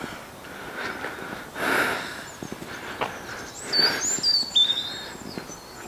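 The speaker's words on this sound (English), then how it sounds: "You can hear all the birds." Birds chirp and call intermittently outdoors in Newton St Loe near Bath, with a few brighter, closer whistles toward the end over a soft background hush.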